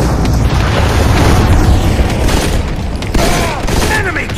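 Loud booming blasts and bursts of gunfire fill a Modern Combat 4 battle scene, with a bomb explosion rumbling through dense combat noise and a brief voice under the din.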